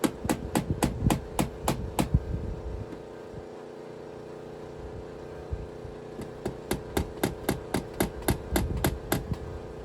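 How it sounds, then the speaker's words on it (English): A hammer taps a starter hole into a camper's wall material in two runs of sharp, evenly spaced close strikes with a quiet pause between them, over a faint steady hum. "I had to use a hammer to get a little starter hole so that I could actually put in the screws."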